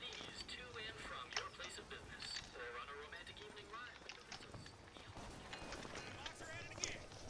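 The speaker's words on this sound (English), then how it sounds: "Ponies." Horse hooves clip-clop in Bioshock Infinite, a quick, busy patter of steps layered among game effects and ambient sound, with a voice talking over it.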